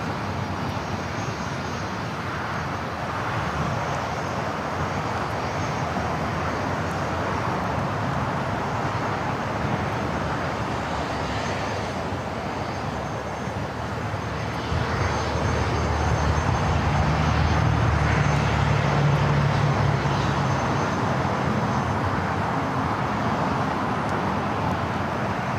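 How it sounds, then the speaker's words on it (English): A Lufthansa Boeing 747 rolls for takeoff on runway 24 left at LAX, a continuous broad engine roar that swells louder partway through, heard from a distance with a low tonal drone. "Lufthansa Queen now rolling down to 24 left"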